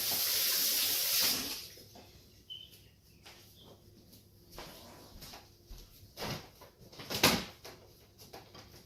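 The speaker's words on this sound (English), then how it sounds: "Let me just wash my hands again." A kitchen tap runs loudly for a moment during hand washing before shutting off, followed by scattered clunks, knocks and splashes near a sink.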